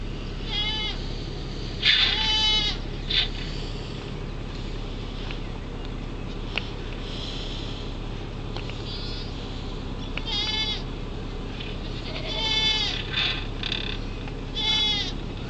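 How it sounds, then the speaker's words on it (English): Several goats bleat repeatedly nearby, overlapping calls coming in bursts over a constant low rumble of background noise. "Look at all those goats."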